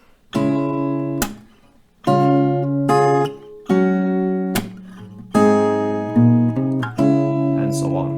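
Steel-string guitar chords picked note by note, each chord ringing out before the next, a slow progression played solo and close.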